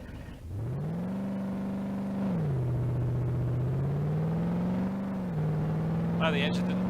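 A junkyard drag car's engine in BeamNG.Drive, droning loudly as it revs up through the gears, the pitch climbing, dropping at each shift and climbing again, steady and close.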